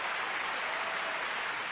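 A large audience of thousands claps steadily in a dense, even wash of applause, distant and moderately quiet, with no voices.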